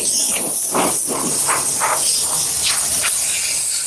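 Steam cleaner hissing against a leather car seat in a Toyota Highlander, worked together with a scrub brush; a steady broadband hiss runs throughout, close and fairly loud, with soft rhythmic pulses from the scrubbing.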